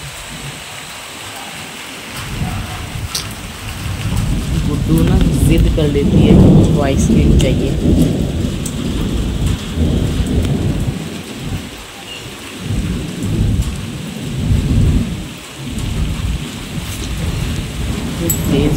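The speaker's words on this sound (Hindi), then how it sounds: "बहुत तेज बारिश हो रही है" Heavy rain pours down in a thunderstorm, a steady loud roar with drops hitting surfaces, thunder rumbling through the middle, while a person talks over it near the start.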